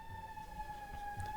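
An emergency vehicle siren wails faintly in the distance outside an indoor conference room, holding a steady tone behind quiet room noise.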